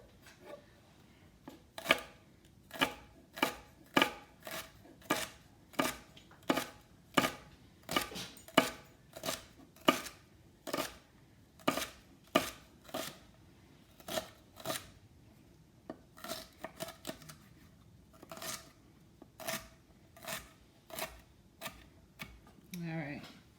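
A knife dices celery stalks on a cutting board in steady, crisp chops, loud and close, with a few brief pauses and a faster run of cuts near the end.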